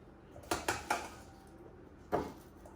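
Crispy fried roast potatoes with thyme are dropped into a bowl, giving a quick cluster of three light clattering knocks followed by one more separate knock a moment later, in a quiet kitchen.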